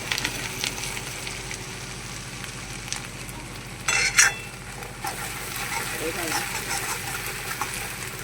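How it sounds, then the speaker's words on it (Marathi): Masala with cumin and asafoetida sautés in a pan for an eggplant curry, a steady low sizzle with a brief loud clatter of utensil against pan midway. "थोडंसं परतून घेणार आहे हा मसाला."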